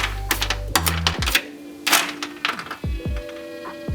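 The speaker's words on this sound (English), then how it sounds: "You can just hear it kind of melting away. Freezing the adhesive right off of that." Irregular cracking, snapping and thunking as frozen sound-deadening adhesive breaks apart while being removed from a car, close up, with a low hum and scraping in between.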